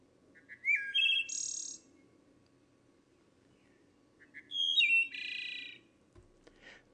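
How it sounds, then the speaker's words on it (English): Wood thrush song played back through birding software: two clear, flute-like phrases separated by a pause, each ending in a buzzy trill, over a faint low hum. "here's our wood thrush. And we can play the song right from here."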